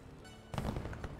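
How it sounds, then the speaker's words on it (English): A firework bursts in the video game Glittermitten Grove, a sudden crackling pop that sets off a short spray of sharp bursts after a quiet start. "let's go ahead and use another firework"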